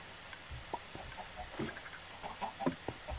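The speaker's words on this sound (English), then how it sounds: "I literally had one chicken in my automatic chicken farm when I left." Many chickens cluck in an automatic chicken farm in Minecraft, scattered soft clucks and short calls overlapping over a few seconds.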